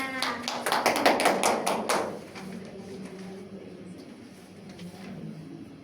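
Classmates in a primary school classroom clap for a group, a quick run of sharp claps for about two seconds that stops abruptly, leaving quiet room noise.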